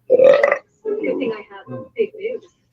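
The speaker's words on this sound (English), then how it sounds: "Nice belch." A loud, close belch rolls out in one long burst followed by a few shorter croaking gurgles, during a baseball game stream between the Atlanta Braves and Tampa Bay Rays.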